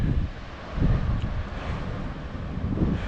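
Steady wind of about 20 miles an hour blowing across an exposed clifftop in West Cornwall, a continuous rushing roar with gusts swelling around the first second and near the end, alone with no voices.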